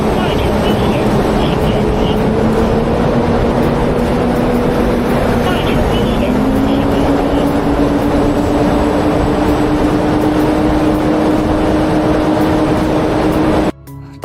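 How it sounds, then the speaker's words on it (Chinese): Mobile crane truck engine roaring under throttle while driving slowly toward a city tower crane dismantling job, a loud sustained drone whose pitch rises midway, with engine noise filling the cab and cutting off abruptly at the end. "我们这个车路上听着油门声音大，实际这个速度是很慢很慢的"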